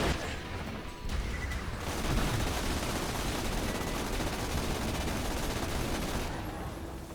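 The Sawbar assault rifle in Borderlands 2 fires in a long, loud, unbroken burst of rapid automatic shots, with a short pause near the start before the fire resumes and runs on to the end.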